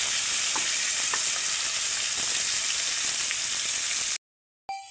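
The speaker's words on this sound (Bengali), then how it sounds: "এদিকে আমি মাছের মাথাটা আর তেলটা ভেজে নেব।" A fish head fries in oil for a cabbage curry, a loud, even sizzle with faint pops that cuts off abruptly near the end, followed by a brief quiet thump.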